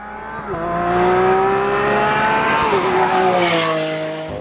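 A Chevrolet Colorado ZR2 Bison pickup accelerates hard at Area 27 Motorsports Park, its engine note climbing and dropping through several gear changes, loud and close, with a faint tire squeal.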